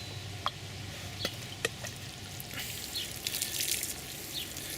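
Rainwater mixture poured over a bed of potato plants outdoors, heard as a soft, steady watery splash with a few scattered drips and light spatter. It grows a bit fuller and hissier toward the end.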